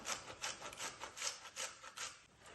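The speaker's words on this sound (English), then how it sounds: "So I've finished nearly grating the gobi." Cauliflower is grated by hand with quick, rhythmic rasping strokes, about ten even scrapes in a row, close and fairly quiet with no talk.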